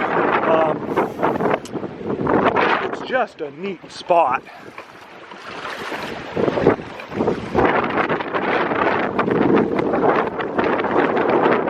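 Gusty wind buffets the microphone with a steady rumble while a person talks over it outdoors beside a lake.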